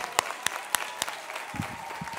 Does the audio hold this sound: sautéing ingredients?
no